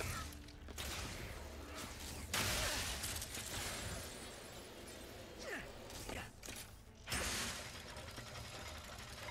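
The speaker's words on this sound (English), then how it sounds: "there's a bolt down here I gotta turn" Mechanical creaking and ratcheting of a bolt mechanism being turned in Ratchet & Clank: Rift Apart on PS5, a steady grinding clatter that runs throughout, with a few louder bursts and game effects layered over it.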